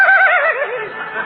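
A voice imitates a horse whinnying, loud and close, in a long wavering neigh with a trembling pitch that slides downward over a second or so.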